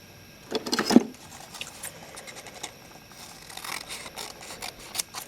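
Scissors snip off a flap of scored paper for a Halloween paper rosette wreath, giving a few short close cuts and light rustling of the paper with no speech.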